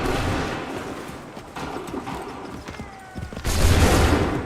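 Musket volleys crack out in an Assassin's Creed 3 battle, several bursts of massed gunfire rolling over a noisy battlefield, with the loudest, closest volley arriving near the end.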